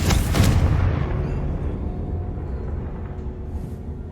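Bombarda and Confringo spells in Hogwarts Legacy detonate in a loud, booming explosion at the start, followed by a long rumbling decay that fades into faint debris noise.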